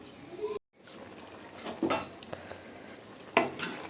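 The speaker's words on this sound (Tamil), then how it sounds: "மூடி போட்டு ஒரு 10 நிமிஷம் வேக வச்சுக்கிறேன்" Chicken gravy cooks in a pan while a soft sizzle and bubbling continue, broken by a brief cut and a few clinks and scrapes of a utensil or lid against the pan.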